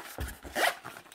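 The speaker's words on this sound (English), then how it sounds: "I really like the Spartan zipper pulls" A zipper with Spartan pulls opens on a Vanquest PPM-HUGE 2.0 gear organizer, a few quick rasping tugs ending in one longer smooth pull, close and clear.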